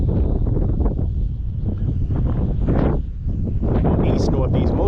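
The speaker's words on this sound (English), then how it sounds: "This wind has gotten to be brutal." Strong sustained northeast wind buffets the microphone during kayak fishing on open water, a steady roaring rumble running throughout beneath a voice talking.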